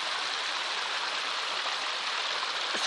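A small stream fed by a black pipe under a bridge, giving a steady, even rush of running water, close and continuous with no voices.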